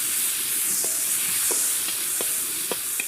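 Onions and tomatoes fry in oil in a wok in a Mumbai kitchen, giving a steady broad sizzle with soft periodic scrapes and taps of a stirring utensil, with nobody speaking.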